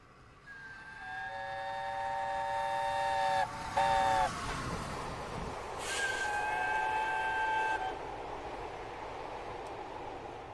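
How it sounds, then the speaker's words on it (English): A high-speed locomotive in Train Simulator 2021 on a Mid-Devon line sounds its two-tone horn in long sustained blasts, broken by a short gap, over a steady rolling rumble that swells as it passes. "High-speed locomotive coming through."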